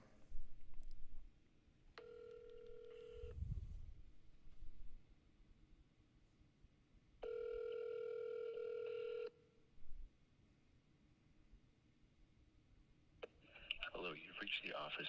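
Phone tones sound while a call is placed to a state representative's office: a short electronic tone, then a longer steady ringback burst after a pause, faint and thin over low background noise, with a voice briefly heard near the end.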